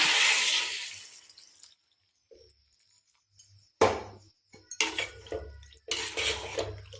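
Water pours into a metal pot of vegetables for a spicy kara kuzhambu curry, a splashy rush at the start, then clinks and scrapes of the pot and utensils in short bursts.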